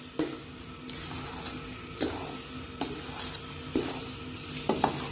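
A flaxseed pinni mixture roasting in ghee sizzles steadily while a spoon scrapes and clinks against the pan every second or so, close up and with no talking.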